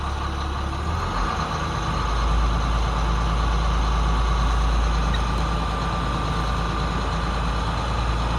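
A bus engine idles steadily with a deep, constant low rumble while its air system builds pressure, the sound continuous and fairly loud throughout with no talk.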